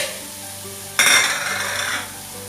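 Mushrooms tipped into a pan of soft cooked tomatoes set off a sudden burst of sizzling and frying, loud at first and easing over about a second.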